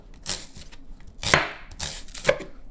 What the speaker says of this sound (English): we're gonna chop this onion